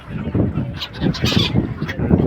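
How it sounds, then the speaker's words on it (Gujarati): A noisy flock of birds at a river confluence honking and squawking together, overlapping calls in quick bursts, fairly close and loud. "જો પક્ષીઓ ધબધબાટી બોલાવે જો આ રીતે એટલા પક્ષીઓ છે"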